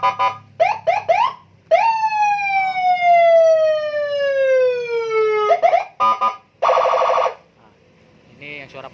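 A custom police escort siren fitted to a 2020 Yamaha Nmax scooter gives short chirping bursts, then one long falling wail, then more rapid yelps, loud and close.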